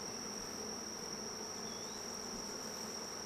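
Honey bees in a well-filled long hive give a steady, even insect hum throughout, fairly close, with no voices over it.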